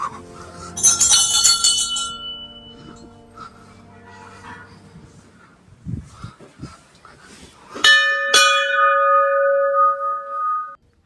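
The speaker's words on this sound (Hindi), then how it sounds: "और मैं भी घंटी तो बजा ही देता हूँ।" A hanging bell at an old Hindu temple is struck twice near the end and rings out in a bright, sustained metallic tone that slowly fades, after a stretch of softer clinking and ambient noise.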